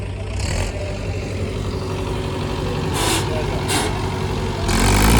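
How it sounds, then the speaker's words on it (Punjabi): A Mahindra tractor engine that will not shut off runs on with a steady, rumbling diesel drone. Brief hissy bursts cut through, and the engine swells slightly louder toward the end. "ਲੋ ਬਈ ਬਾਈ ਪੂਰਾ ਧੱਕਾ ਕਰ ਰਿਹਾ ਵੀ ਬੰਦ ਕਰਕੇ ਦੇਖਣਾ ਪਰ ਟਰੈਕਟਰ ਬੰਦ ਨਹੀਂ ਹੋ ਰਿਹਾ"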